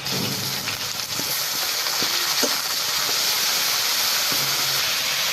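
Green chilies, chopped onion and onion paste hiss loudly in a hot pan of oil, a steady dense sizzle with faint clinks of a spatula, close up and continuous.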